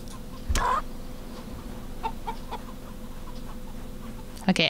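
Chickens in the CHKN video game cluck during a chicken hunt, with a couple of short clucks over a steady game ambience and soft background bird calls, moderately near.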